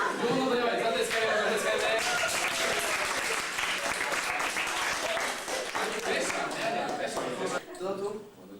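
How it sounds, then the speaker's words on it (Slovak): An audience claps steadily throughout at a children's St. Nicholas (Mikuláš) gathering, dense and fairly loud, with a few voices audible briefly near the end as the applause thins. "No, dobre, zatleskajme."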